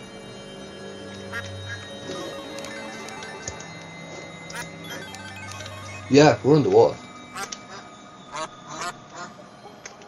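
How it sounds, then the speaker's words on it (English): A duck in the video game Terraria gives a quick burst of three or four nasal quacks, close and prominent, while someone talks over background game music. "The duck flew away."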